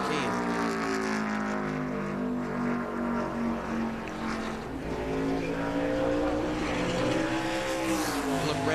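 Race car engine held at high revs on the Loudon, New Hampshire International Speedway oval during 2004 Siemens 200 qualifying, a loud continuous whine with steady harmonics that dips briefly and then climbs again as the throttle comes back on.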